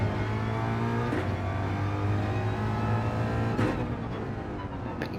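A Ford Mustang GR3 race car in Gran Turismo 7 is on the power at Interlagos, its engine a loud, continuous droning roar that climbs steadily in pitch, briefly breaks around a gear change, then pulls on.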